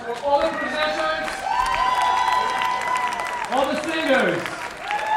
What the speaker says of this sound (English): One more round of applause for all the presenters